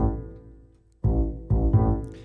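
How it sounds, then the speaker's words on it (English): Deep, sustained bass notes swell and decay in a slow pattern, three punchy hits with nothing else playing. "And the bass sounds like this."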